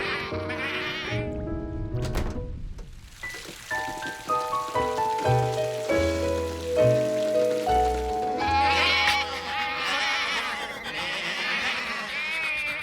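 Cartoon sheep bleat in a wavering chorus over a backing of piano-like notes, the calls rising and falling through the stretch, no talking.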